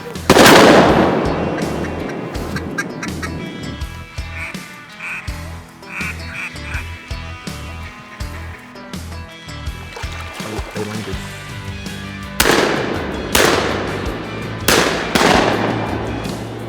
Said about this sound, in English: I think I killed 2 with 1 shot